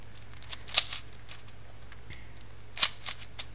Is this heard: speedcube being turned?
yes